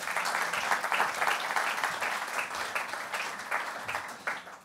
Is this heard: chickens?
no